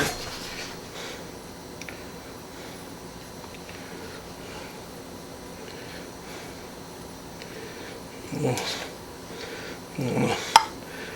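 A spoon spreads and flattens chocolate dump cake batter made with cherry Dr Pepper in a baking pan, two brief soft scrapes late on after a long, quiet stretch.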